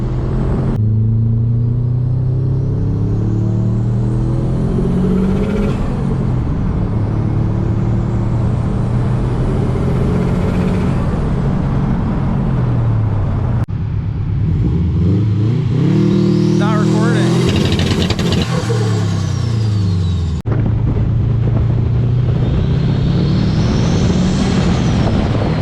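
A turbocharged Subaru WRX/STI accelerates hard under boost on a road test drive, engine note climbing repeatedly through the gears with loud in-cabin rumble and brief drops between shifts, a voice speaking over it.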